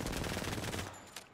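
Rapid automatic gunfire in a shooter video game rattles in a dense burst for about a second, then breaks off into a quieter tail with a faint ping.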